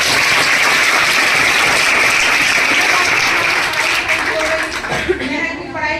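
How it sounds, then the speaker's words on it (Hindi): Families and students at a girls' school honoring ceremony clap loudly together, a sustained wash of applause that thins toward the end as voices start to emerge. "एक बार फैमिली तालियां बजाएं।"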